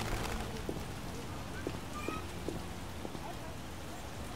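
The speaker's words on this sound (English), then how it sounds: "It's really raining." Rain falls steadily in The Witcher video game, a faint, even hiss with a few soft taps and clicks scattered through it.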